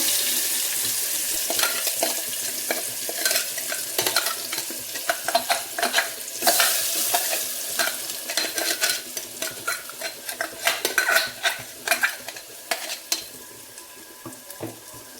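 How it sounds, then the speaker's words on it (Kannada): Spice paste with curry leaves and one or two dried chillies frying in oil, a steady close sizzle broken by repeated scraping stirs and sharp crackling spits throughout. "ಹಾಕಿ ಚೆನ್ನಾಗಿ ಎಣ್ಣೆ ಫ್ರೈ ಮಾಡ್ಕೋಬೇಕು ಈ ಪೇಸ್ಟು"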